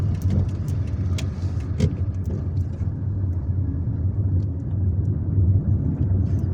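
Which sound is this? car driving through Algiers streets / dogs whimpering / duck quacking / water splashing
car driving through Algiers streets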